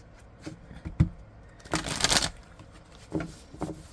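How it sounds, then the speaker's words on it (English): Tarot card shuffling with a few soft riffling taps, then a louder burst of rapid riffling in the middle, followed by more scattered taps; no voices. "I shouldn't have to shuffle this long"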